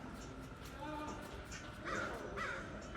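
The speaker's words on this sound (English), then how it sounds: "Oh, the crows sound like they're having a good time." Crows caw a few times in the distance outdoors over a steady, noisy background hum, harsh calls spaced across a few seconds near a balcony.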